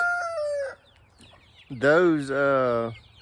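Chickens cluck and crow close by, a short call followed by a pause and then a longer, loud drawn-out cry.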